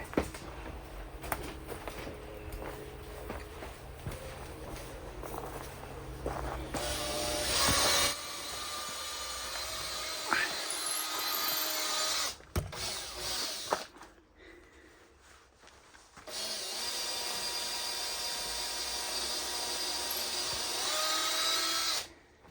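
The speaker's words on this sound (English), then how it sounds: "Try and keep the drill straight." A high-pitched power drill whines steadily in long bursts drilling holes in a living room wall, stopping and restarting, with a brief pause before a final sustained run.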